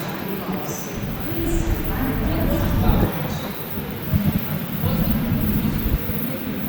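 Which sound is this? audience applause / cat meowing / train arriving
train arriving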